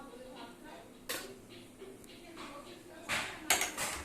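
A metal tawa griddle set down on a stove in a home kitchen while making egg rolls, with soft clanks and scrapes followed by a sharper knock and rattle of metal toward the end, faint room noise behind.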